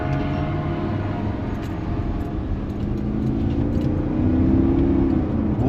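A used SUV on a test drive, shifted into gear and pulling away, gives a loud, steady engine drone that rises in pitch as it accelerates near the end, heard from inside.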